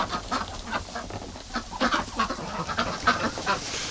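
Hungry breeding ducks in a straw-bedded barn quack in a busy, overlapping chorus of many birds, steady and close with constant rustling underneath.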